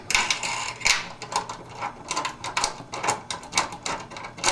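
Ratchet wrench tightening long bolts on an aluminum swingpost assembly, a series of quick metallic clicking bursts repeating in uneven clusters, close and fairly loud with no talking.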